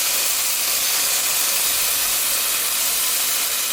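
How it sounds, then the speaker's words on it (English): Flank steak sizzles loudly on a Ninja Foodi grill, a dense, steady hiss that fills the whole stretch close up, with no voices. "Whoa, sizzle, sizzle."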